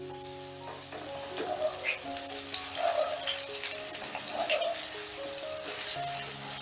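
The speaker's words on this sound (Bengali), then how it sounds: "ঝিঙেগুলোকে উল্টে পাল্টে বেশ লাল লাল করে ভেজে নিয়েছি" Battered ridge gourd slices fry in hot oil, making a continuous close sizzle and crackle with a few faint bubbling pops.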